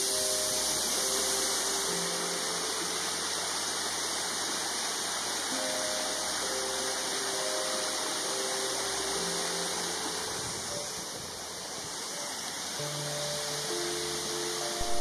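Steady, continuous rushing roar of a waterfall in the Lost Valley of Uggool in County Mayo, Ireland, constant at an even level throughout, with soft sustained tonal drones layered over the water.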